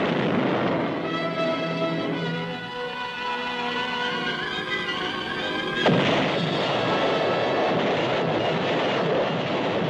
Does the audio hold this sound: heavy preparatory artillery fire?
yes